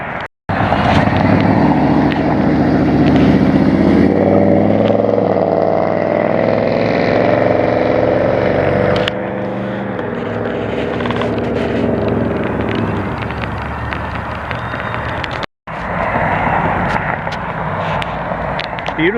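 A Chevrolet Camaro engine rumbles loud and close at a parts-store car cruise, a steady throaty roar that holds for about nine seconds, then drops to a lower idle before a brief cutoff and restart.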